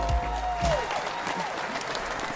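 Studio audience applause at a talk show taping, a dense burst of clapping with a brief cheer in the first half that then settles into steady clapping.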